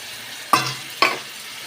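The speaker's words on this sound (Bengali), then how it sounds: "আবারও আমি এটা খুব ভালো করে কষাবো যতক্ষণ না এর মশলার ভেতর থেকে তেলটা ছেড়ে যাচ্ছে।" Chilli and cumin spices sautéing in hot oil for a fish curry, with a steady sizzle broken by two sharp spoon strokes in the pan, close and brief.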